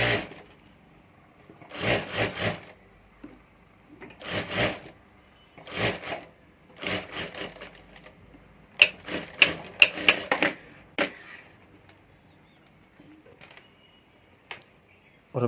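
Sewing machine stitching a fabric strip onto a handmade bag, several short rattling bursts of stitching separated by pauses, then quicker clicks and taps near the end.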